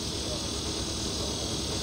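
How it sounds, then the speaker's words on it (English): Cicadas in summer trees drone in a dense, continuous buzz that stays loud and unbroken throughout. "Cicadas give the trees a voice, and you can hear them roar in the dog days of summer."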